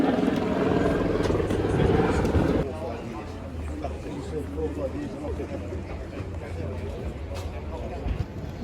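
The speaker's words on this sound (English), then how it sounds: "that's the chopper you ride if you want to go here" A helicopter flies over a boat show, its rotor chop and engine roar loud and steady at first, then fading to a softer distant drone amid crowd noise and chatter.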